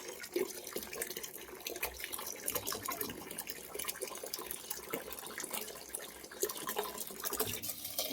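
Water splashes and trickles into a vessel holding soaked jowar (sorghum) grain being readied for bibdya, an irregular, fairly faint pouring with drips and sloshes and no speech.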